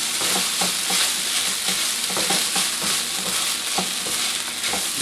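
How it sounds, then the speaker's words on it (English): Rice browning in a pan with soy sauce and oyster sauce, sizzling and crackling steadily up close, with irregular scraping taps of stirring throughout. "I got the rice kind of browning here, cooking. I've added the soy sauce and the oyster sauce."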